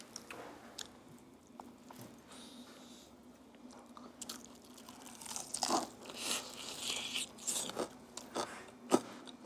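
Crunchy fried chicken being bitten and chewed at a Thai restaurant, close crisp crackling crunches that grow louder and more frequent, with a sharp bite near the end.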